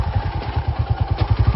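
Motorcycle on a rocky mountain road between Lahore and Kashmir, its engine thumping in a steady, fast rhythmic pulse, loud and close, with no talking.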